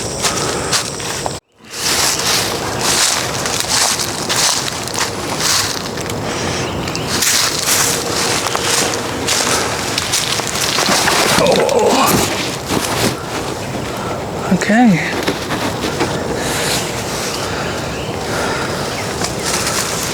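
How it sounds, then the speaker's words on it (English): Steady wind roars across a hammock campsite on a Louisiana bayou, a loud continuous rush buffeting the microphone for the whole stretch, with one brief dropout near the start. "I could put up my tarp if I really wanted to stop this wind, as you can hear on this camera"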